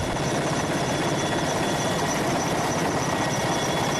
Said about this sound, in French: De là partent et reviennent les hélicoptères